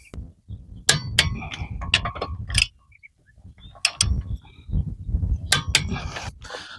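A Parkside cordless 20V impact wrench set to 210 Nm tightens in short bursts, giving sharp metallic hammering clangs in three close, loud clusters separated by brief pauses.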